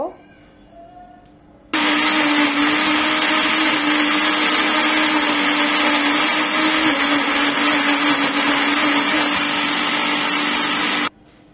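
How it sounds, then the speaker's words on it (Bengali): A blender grinds a chicken mixture for chicken balls, switching on abruptly with a loud, steady motor roar and whine that holds for about ten seconds before cutting off, with faint sounds before it starts. "এগুলো এখন ব্লেন্ড করে নেব।"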